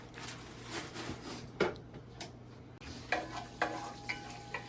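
Whole spices including cloves and tailed pepper frying in a pan for a chicken dinner, giving a faint, steady crackle with occasional brief stirring clatters and scrapes, no voices.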